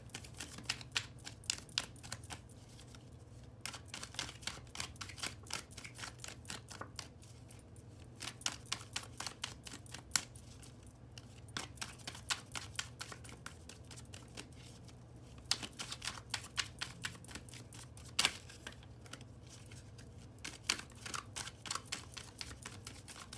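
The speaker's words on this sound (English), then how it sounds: "Just gonna go on and finish shuffling these cards as well." Tarot cards are shuffled in repeated quick bursts of crisp riffling clicks, close and fairly quiet, with short pauses between runs.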